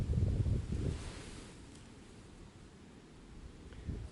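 Wind gusts buffet the microphone outdoors while fishing for perch, strongest at the start, then ease into a steady low rumble.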